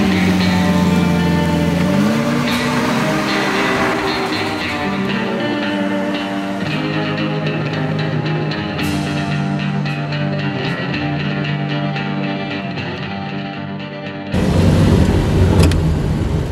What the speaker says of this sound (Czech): Tady Lukáš si jede ve Škoda Octavia Super, ročník 62